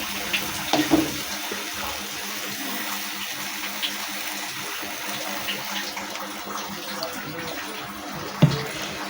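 Water pours steadily into a pan of cooking semolina for a savory-sweet suji dish, giving a soft, continuous rushing sound with a few faint clinks and one brief knock near the end.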